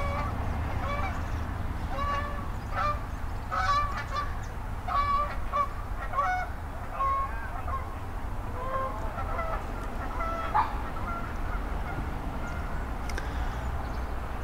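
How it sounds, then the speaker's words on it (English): Geese honk repeatedly in scattered bursts, moderately distant, over a steady outdoor rumble with no talking. "even if the geese are honking at you"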